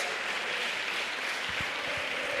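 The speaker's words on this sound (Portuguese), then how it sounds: "Você pode aplaudir o Espírito Santo de Deus." A church congregation gives faint, distant applause in a steady wash of clapping with no talk over it.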